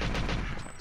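Shotgun guards opening fire in the Extinction level of a first-person shooter: a quick, loud burst of overlapping blasts, close and harsh, lasting under a second.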